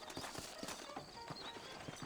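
Quiet, steady clip-clop of horse hooves in the video game Red Dead Redemption, a soft rhythmic patter, faint and somewhat distant beneath a low background wash.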